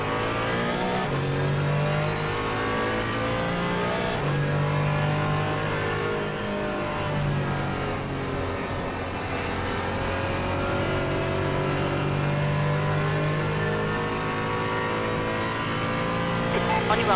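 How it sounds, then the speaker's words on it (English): Engine roar of a faster-class race car closing in during a multi-class endurance race at the Nürburgring in Assetto Corsa Competizione, a loud continuous drone with repeated rising revs and gear shifts, voice chatter underneath. "Faster class car approaching"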